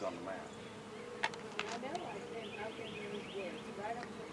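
A bee swarm buzzing outdoors on a hillside, a dense continuous hum of many insects close by, with a few sharper passes of individual bees flying near.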